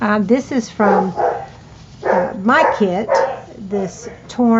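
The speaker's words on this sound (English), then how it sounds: "sorry about my dogs barking" Dogs barking indoors in a series of sharp repeated woofs and yips, some overlapping and fairly close, while someone talks over them.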